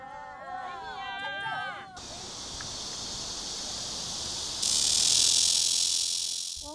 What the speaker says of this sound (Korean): 매미 소리가 들리는 것 같은데.